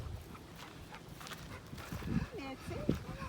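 Puppies bark and whimper at a campsite outside Fort Myers, Florida, with high, wavering yelps rising near the end over steady background noise while people talk nearby.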